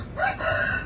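A single rooster crow rings out close and loud, a short rising call that fills the moment on its own.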